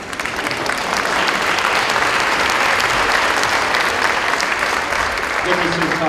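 Audience at a high school awards evening clapping steadily in a large room, a sustained dense round of applause that keeps an even level throughout, with faint talk near the end.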